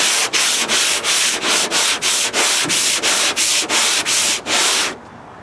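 A hand sanding block with 80 grit sandpaper rasps back and forth across a Ford F100 body panel in steady, even strokes, about a dozen rhythmic rubbing passes up close before it stops.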